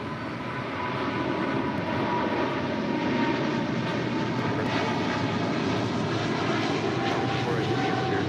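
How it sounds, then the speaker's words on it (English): A Boeing 777 freighter taking off from runway 25 right at LAX gives a loud, sustained, steady jet engine roar that swells slightly in the first second and then holds. "the 777 freighter now rolling down 25 right"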